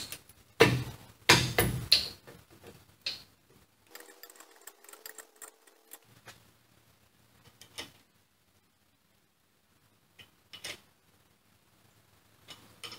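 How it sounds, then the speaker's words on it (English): A ratchet tightens brake hose mounting bolts, giving bursts of close, loud clicking and metallic rattles at the start, then sparser clicks and scrapes with quiet gaps between. "And now just tighten these bolts."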